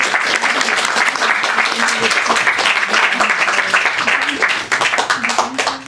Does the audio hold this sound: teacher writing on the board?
no